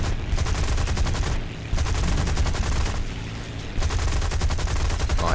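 An aircraft fires its cannon at ground targets in a combat flight game, loud rapid-fire bursts of shots in three long strings separated by short pauses.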